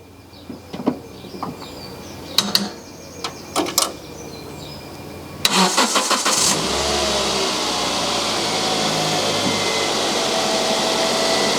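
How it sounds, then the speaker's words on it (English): A car engine cranks and catches using a Sealey Electrostart capacitive jump starter pack, then settles into a steady idle that keeps running, preceded by a few scattered clicks and knocks. "just start the engine the normal way"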